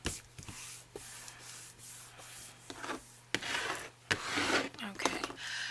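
Excess glue is rubbed off a paper edge while making journal inserts, producing soft, close scuffing and rubbing strokes in short bursts with a few light taps, fairly faint.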